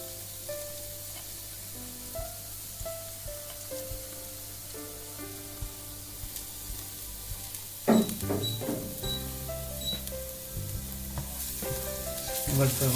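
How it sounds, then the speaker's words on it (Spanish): Finely chopped garlic and then onion fry in olive oil over medium heat: a steady sizzle that grows louder and busier partway through, with light stirring and soft background music underneath. "vamos a sofreír los ajos que están muy bien picaditos"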